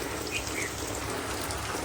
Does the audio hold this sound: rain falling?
yes